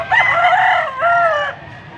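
A fighting rooster at a poultry auction in Angeles City, Pampanga crows loudly and close by, one full cock-a-doodle-doo call lasting about a second and a half, then fading out.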